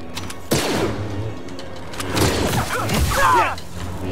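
Blaster gunfire from the video game Star Wars Jedi: Fallen Order, with repeated bursts of shots and impacts amid busy combat noise, loud and close, and someone talking over the action.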